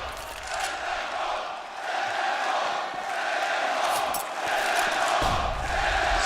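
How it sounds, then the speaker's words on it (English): Arena crowd at the ELEAGUE Major 2018 CS:GO semi final between SK Gaming and Cloud9 on Inferno, a steady roar of many voices swelling and cheering throughout, fairly loud and sustained. "The crowd is ready."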